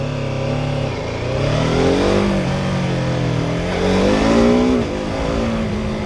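A BMW F450 GS motorcycle engine revs up and down close by, pitch climbing in two strong surges, loud and uninterrupted.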